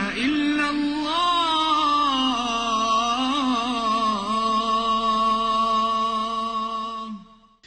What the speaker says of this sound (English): This is the sound of an Islamic call to prayer.